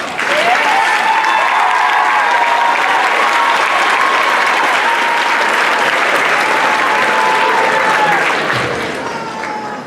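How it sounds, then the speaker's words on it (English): Loud, sustained round of applause from a graduation ceremony audience, continuous clapping filling the hall for nearly ten seconds before beginning to fade at the end, with faint voices mixed underneath. "please stand to be recognized by a round of applause."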